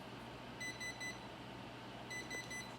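A kitchen timer signals that baked sourdough bread is done, sounding two quick sets of three high electronic beeps over a low steady room hum.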